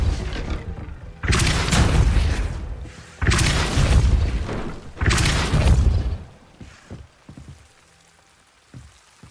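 Three loud, forceful spell blasts of the Depulso charm in Hogwarts Legacy, each a booming burst lasting over a second, spaced evenly and fading into quieter clicks afterward.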